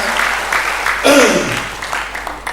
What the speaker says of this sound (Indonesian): Tepuk tangan untuk support system Bapak Ibu semua ya.